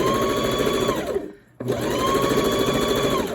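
A sewing machine stitches a pin tuck in folded fabric, its motor whirring steadily and close, pausing briefly for a moment of near silence before starting up again at the same even speed.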